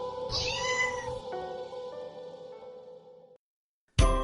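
A cat meows once, a drawn-out, loud call close by, followed by a sustained tonal hum that fades into silence before a sharp burst at the end.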